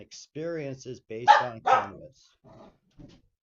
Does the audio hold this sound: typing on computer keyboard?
no